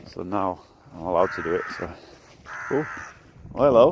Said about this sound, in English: Big crow crowing at me.